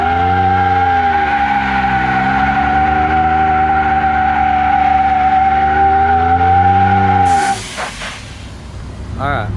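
Ford F150 burnout heating Nitto NT420V tires: a loud, close, sustained tire squeal and engine roar lasting several seconds, wavering in pitch, then cutting off into rough rumbling noise.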